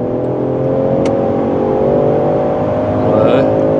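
A 2023 Land Rover Defender engine drones and builds as it accelerates off-road, a loud steady harmonic hum rising slightly in pitch, with a brief voice over the top.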